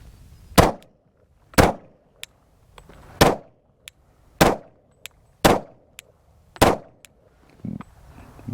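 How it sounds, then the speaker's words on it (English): Pistol shots ring out on a range during a Bill Drill, six sharp loud cracks fired at a brisk, even pace about a second apart, with faint clicks between them and no talking. "Man, that's good shooting right there, dude."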